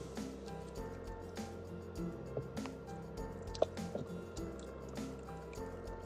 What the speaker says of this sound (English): so I'm going to add water, enough water, and cover it again